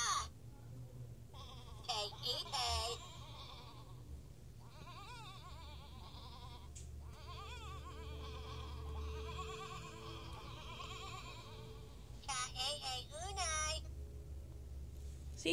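An electronic Furby toy gives out sheep-like bleats and warbling chirps in a few separate bursts, with quieter warbling between and a low hum underneath.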